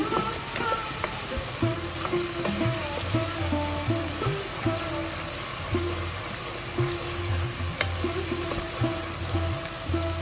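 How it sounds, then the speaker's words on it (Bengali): Spices sizzle in hot oil while being cooked down for a gourd-leaf stem and potato curry, a steady broadband frying hiss with scattered clinks of a spatula, loud and close throughout. "তাই মশলাগুলো ভালোভাবে কষিয়ে নেব এখন।"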